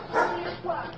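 Two quick, high-pitched yips from a small dog, close by and fairly loud.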